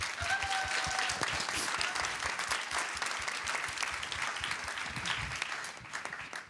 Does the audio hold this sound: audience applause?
yes